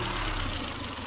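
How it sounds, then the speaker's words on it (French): Renault Clio 2 engine idling after an oil and filter change, a steady low rumble with a constant broadband hum, no talk. "ça fait 10 minutes que votre moteur tourne"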